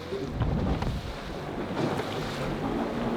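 Steady wind roars around a boat out on choppy water, a continuous broadband rush with gusty swells, close and fairly loud, with no voices.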